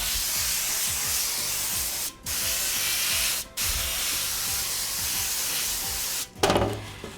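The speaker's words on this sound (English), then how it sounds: "So we're going to use some organic olive oil spray" Organic olive oil spray coats a cookie sheet in long steady hissing bursts, close and fairly loud, with two short pauses between sprays and a clattering handling noise at the end.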